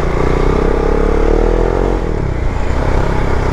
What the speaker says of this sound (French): Ah, puis alors le son, ah, faut que je vous montre l'échappement